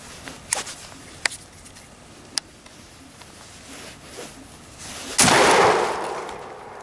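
A SPAS 12 shotgun with a faulty lever safety fired outdoors: several sharp, fairly distant cracks spaced irregularly, then a louder, longer blast with a rolling, decaying rumble.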